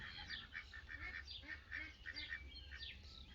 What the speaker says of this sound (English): It's my duck Dismo.